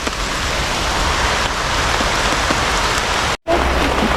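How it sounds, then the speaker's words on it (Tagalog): Steady, heavy rain pours down close by in a dense, continuous hiss, broken by a brief moment of silence near the end. "Ay, ulan."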